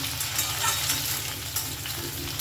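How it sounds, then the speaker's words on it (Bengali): Papaya and diced potatoes fry in hot oil over a high gas flame, giving a steady, dense sizzle with soft stirring scrapes throughout, close and fairly loud with no talking. "আলুটাকে দিয়েও কিন্তু আমি খুব ভালো করে এটা ভেজে নেব"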